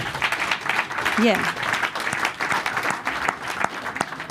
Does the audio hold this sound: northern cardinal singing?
no